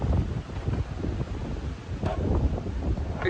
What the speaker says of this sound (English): it's quite windy, so I hope you can still hear me.